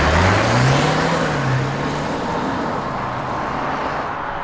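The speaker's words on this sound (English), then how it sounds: "it's going to use both the 2-liter turbo and the battery system to give us the maximum acceleration, right?" A Jeep Wrangler 4xe plug-in hybrid with a 2-liter turbo engine and battery system accelerates hard, a steady engine drone rising in pitch and then holding, loud and close from inside the cabin, with broad road noise underneath.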